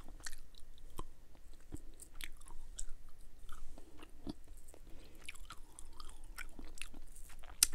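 Baby Bottle Pop candy being chewed close to the microphone, soft wet crunches and clicks scattered irregularly over a faint steady hiss, with no talking.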